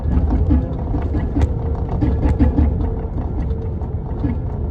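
A Peugeot 106 with a worn rear axle clunks and rattles over bumps while driving, a busy knocking and creaking under steady road and engine noise.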